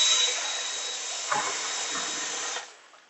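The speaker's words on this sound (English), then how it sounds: "tell the drill to rotate in the opposite direction" A power drill running in reverse to stir and degas a wash whirs steadily at close range, a continuous high motor whine that runs briefly and then winds down.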